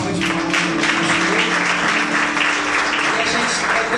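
Congregation in a church claps together, a bright, busy wash of applause holding steady, with a faint tonal hum beneath it.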